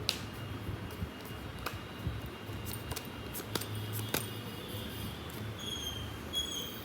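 A deck of tarot cards is shuffled by hand, a steady papery riffle with soft slaps and clicks running throughout, close and fairly quiet with no voices.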